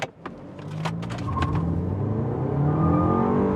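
A Lexus LM500h Direct4 van accelerating flat out from 0 to 100 km/h in sport mode: a couple of clicks and a thump at launch, then a smooth, swelling engine and motor whir that builds steadily and stays loud.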